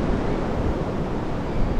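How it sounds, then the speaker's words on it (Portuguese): Strong wind gusts in Recife, Pernambuco ahead of a storm, a dense, steady roar of rushing air and microphone buffeting that runs through the whole moment without talk. "Ventando bastante, porque você não tá aqui para você ouvir"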